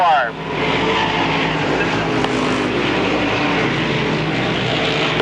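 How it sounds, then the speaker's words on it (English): Race cars speed around an oval track, the lead car coming down the straight with a loud, sustained engine roar, while an announcer talks over it. "Here's your lead car coming down"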